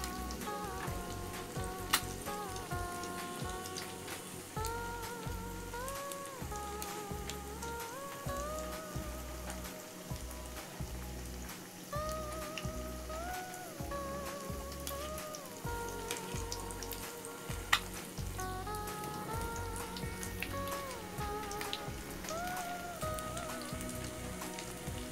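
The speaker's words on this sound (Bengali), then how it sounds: "লাল করে এরকম ভাজতে হবে।" Egg, potato and noodle finger snacks fry in hot oil, giving a steady crackling sizzle that continues throughout over a low background of repeating music, with no talking.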